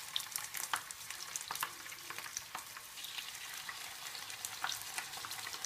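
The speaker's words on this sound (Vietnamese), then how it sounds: "bây giờ dầu sôi rồi, bây giờ em cho bắt đầu cho chẩu vào chiên" Steady frying and sizzling of frogs in hot oil, close by, with crackling pops scattered throughout and no talking.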